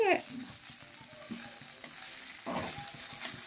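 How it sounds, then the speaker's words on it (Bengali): Ingredients fry in a pan with a steady close sizzle and crackle, and the noise swells as they are stirred, with no voices. "এটাকেও খুব ভালো করে আমি ভেজে নেব"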